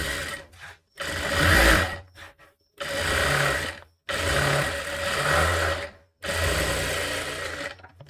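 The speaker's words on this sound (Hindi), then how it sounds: "क्या इस तरीके से हम सिलाई लगा देते हैं, इस पर भी पलटाकर।" An electric sewing machine stitches a katori blouse sleeve in four bursts of steady whirring, each a second or two long and separated by short pauses, close and fairly loud with no talk.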